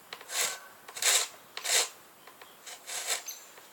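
A rasp scrapes across the wooden tip of a bow being shaped for pin nocks, in about five rough, rounded strokes with brief pauses, close and moderately loud.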